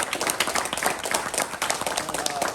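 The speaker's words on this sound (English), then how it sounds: "So guys, let's give a round of applause for John." A group at a purple belt promotion for John gives a round of applause, with brisk, dense clapping from many hands close by that keeps going throughout, mixed with a few crowd voices.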